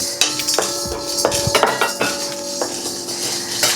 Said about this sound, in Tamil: இதையும் நல்ல இளஞ்சூட்டில் வறுக்கணும்.